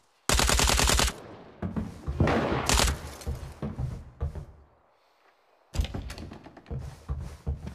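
A few loud, sharp gunshot bursts crack up close in the video game Tarkov Mobile, separated by a brief near-silent gap, with rattling follow-up shots afterward.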